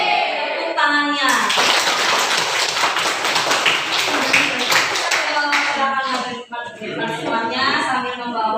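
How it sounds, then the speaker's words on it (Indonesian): A class claps hands in a classroom, a burst of rapid, overlapping clapping framed by children's and adult voices speaking before and after. "Tepuk tangannya."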